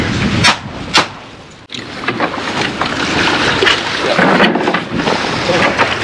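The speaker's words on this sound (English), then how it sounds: "Shoot the two rounds, make sure your gun's clear." Glock pistol shots fired at a blue marlin beside a fishing boat: two sharp reports close together, heard over loud, constant boat engine, water and wind noise, with voices in the background.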